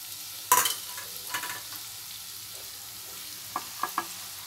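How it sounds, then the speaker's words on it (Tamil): Vegetables such as cabbage, carrot and beans are tossed into a hot pan for hot and sour chicken soup: a sharp clattering burst, then a soft, low sizzle with a few light utensil clicks. "இப்போ இதில் வெஜிடபிள்ஸ்லாம் போட்டலாம்"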